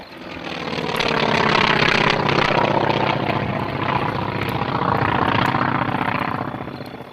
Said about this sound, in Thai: ประสาทหูได้ยินเสียงเครื่องยนต์ดังแว่วๆมาจากท้องฟ้าเบื้องบน